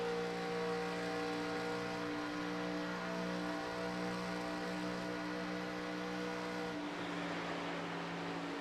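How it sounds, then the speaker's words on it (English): A Legends race car engine in iRacing at Daytona holds a steady harmonic drone, then the pitch drops sharply as the driver lifts off the throttle near the end, with no talk. "You can hear he's way off the throttle."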